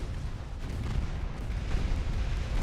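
Warship guns firing during a naval battle in Ultimate Admiral Dreadnoughts, a steady rumbling barrage of deep booms rolling together under heavy low-end noise, without any talking.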